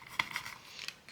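Small blades snip through a piece of cooked broccoli with a couple of soft, quick cuts, faint and close.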